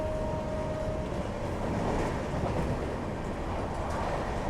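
The Darjeeling Mail passenger train pulls into Katwa Junction with a steady loud rumble of rolling wheels and carriage noise, and a thin tone sounds briefly at the start.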